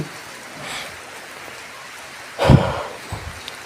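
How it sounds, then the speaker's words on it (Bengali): Steady rain hisses over foliage, with a sudden louder rush or thump partway through before the even downpour continues. "কিন্তু বৃষ্টি ওগুলো মানে ভালোই বৃষ্টি হচ্ছে"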